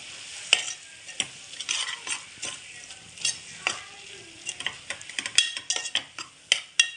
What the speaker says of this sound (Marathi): पावडर मीठ सगळं टाकून देते आणि मग सगळं मिक्स करायचं